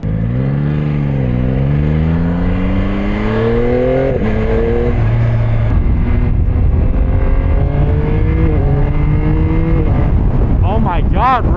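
A 2025 Yamaha R9 motorcycle accelerates hard through the gears, its engine note climbing in repeated rising sweeps, loud and close, with wind rush throughout.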